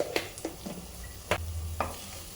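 Tomato rice being mixed in a pan: a few separate spatula scrapes and soft clatters over a quiet low hum, with no talking.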